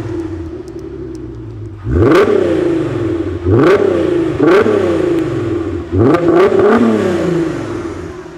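A car engine revs hard several times in succession, each blip sharply rising then falling back to a steady idle, loud and close with no talking.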